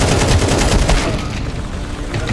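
Rapid bursts of gunfire in the video game Counter-Strike 2, loud and close, with a dense crackling volley in the first second that trails off into continued game noise.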